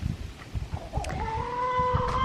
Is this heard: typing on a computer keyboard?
no